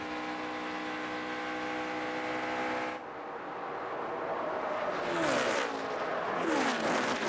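NASCAR Nationwide Series stock cars racing at Kansas in 2012, a loud sustained engine drone that shifts pitch as cars sweep past nearby.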